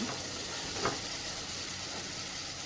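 Tomato, green chili, cumin, garlic and salt sautéing in oil for a rassa curry, giving a soft steady sizzle and hiss at low level with one faint scrape, no voices.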